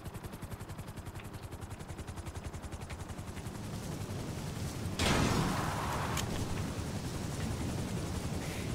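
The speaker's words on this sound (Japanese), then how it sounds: "ヘリ来た" Gunfire rattles through a GTA5 game scene, rapid shots repeating in a steady rhythm before a louder, denser burst as a helicopter arrives, its rotor noise blending into the continuous din.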